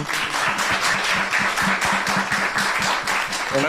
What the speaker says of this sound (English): Ms. Perry gets the applause